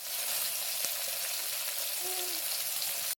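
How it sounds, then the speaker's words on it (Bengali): River bata fish frying crisply in hot oil gives a steady, even sizzle with soft crackling, fairly quiet and unbroken, with no talk over it. "মাছ ভাজা হয়ে গেছে, দেখেছো একটু কড়া করে ভাজছি"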